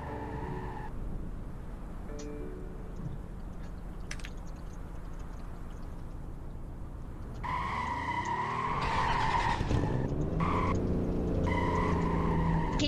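Tires skid and screech in a video game car race, a steady engine drone building into louder sweeping squeals toward the end, with no talk over it.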